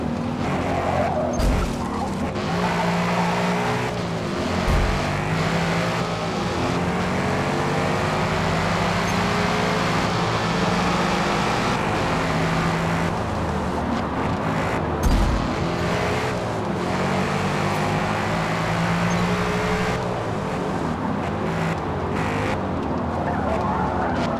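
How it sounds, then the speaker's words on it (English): A roaring Shelby GT500 Cobra engine in the racing game Forza Motorsport revs steadily with tire squeals and skidding, loud and continuous, with no talking. "Shelby GT500 Cobra sounds nasty though."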